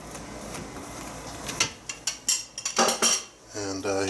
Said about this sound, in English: Butter one side.